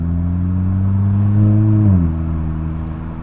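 A car in sport mode runs with a steady mid-pitched engine drone that holds for nearly two seconds, then drops in pitch at a gear shift and settles into a lower, smooth hum under the next gear.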